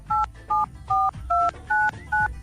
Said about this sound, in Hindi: आपके फोन में से ना टों टों टों टों की आवाज आने लगी